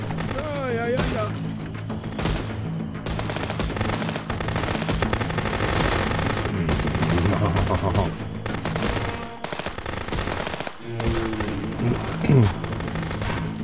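Dense video-game gunfire rattles almost without pause in Contraband Police, mixing automatic bursts and booms. Voices talk over the shooting throughout, and the noise thins briefly near the end.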